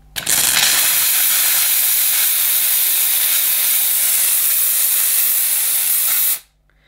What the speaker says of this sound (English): So as you're using it on and off, the steamer should be maintaining the steam for you automatically.